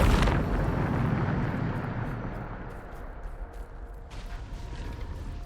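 A Bombarda explosion spell bursts in Hogwarts Legacy, opening with a sharp, loud blast that decays into a long rumbling roar, followed by a renewed crackling surge toward the end.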